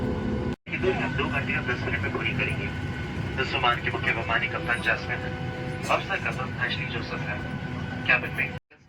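Steady broadband roar of a passenger jet cabin on a Bengaluru to Varanasi flight from a window seat, continuous engine and air noise filling the whole clip, with people talking throughout and a brief cut near the start.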